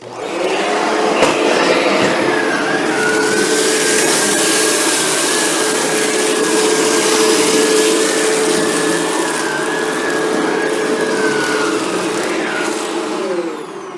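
A Shark Rotator NV752 vacuum cleaner runs steadily and loudly for the whole stretch, its motor whine constant with slight pitch shifts as it is pushed along a baseboard edge, with no talking.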